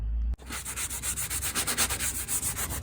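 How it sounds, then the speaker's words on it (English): Rhythmic back-and-forth scrubbing on an interior door panel of a 1983 Volvo C30, with repeated close, rasping strokes after a brief thump at the start and no voices. "So, I'm just going to have to scrub this way"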